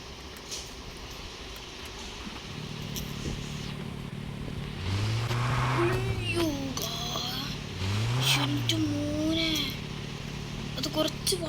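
Lightly modified car with a new spoiler, tyres and a black-painted roof, its engine idling, then revving twice in rising surges around the middle, with a steady engine hum between and a voice faintly audible.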